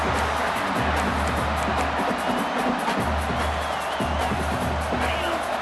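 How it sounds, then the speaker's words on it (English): A large stadium crowd in the video game EA Sports College Football 26 roars and cheers continuously at a loud, even level during a football game, with no one speaking over it. "Listen to this crowd just shaking the girders of this place, trying to help their defense."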